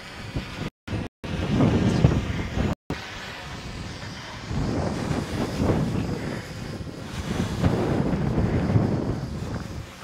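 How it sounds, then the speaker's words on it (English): Wind buffets the microphone in heavy, rumbling gusts that rise and fall, with a couple of brief dropouts near the start. "It's a bit windy."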